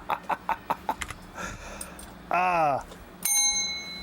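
A bell rung in a quick burst of about six bright strikes, followed by a longer ring and a final sustained ring, with talking and laughter between the rings.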